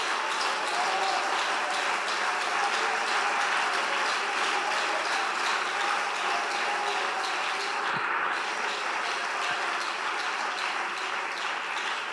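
A church congregation gives steady, dense applause, a continuous even roar of many hands clapping together throughout, close and full without pauses.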